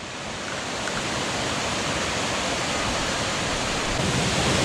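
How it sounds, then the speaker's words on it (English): A waterfall on the Crab Orchard Falls trail roars as a steady, dense broadband rush of falling water, constant and fairly loud with no voices, growing slightly louder over the few seconds. "We made it to the falls."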